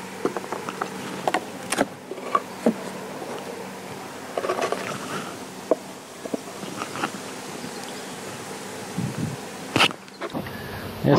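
Honey bees buzz steadily around a hive, a low drone with brief louder passes close by and some rustling handling noises.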